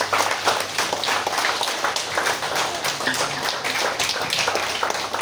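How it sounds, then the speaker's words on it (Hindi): An audience stands and claps loudly to welcome a guest onto the stage at a business development programme in Ranchi, Jharkhand, a dense, continuous patter of many hands holding steady throughout. "आप सभी खड़े होकर के जोरदार तालियों के साथ उनका वेलकम करेंगे"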